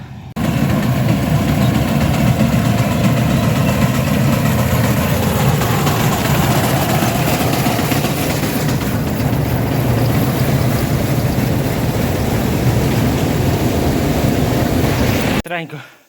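A YuMZ-6 tractor engine idling on a farm during wheat harvest, a steady, loud, low diesel rumble with constant vibration that runs unbroken for about fifteen seconds and then cuts off.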